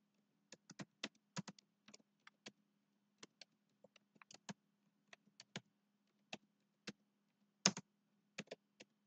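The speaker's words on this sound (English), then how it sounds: "Just typing something in chat again." Someone types quickly on a computer keyboard to enter a chat message. The sharp clicks come in irregular bursts over a faint steady hum, quiet and close.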